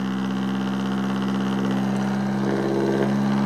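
A DC brushless motor, driven by a MOSFET and timed by a Hall effect sensor, runs with a steady, even hum and whir that holds constant throughout, close and alone.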